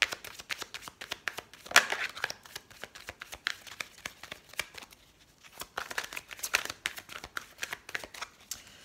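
Oracle cards from the Les Rêves Enchantés deck shuffled for a reading, with bursts of brisk riffling and soft slapping repeating across the clip, pausing briefly in the middle before resuming; no voice.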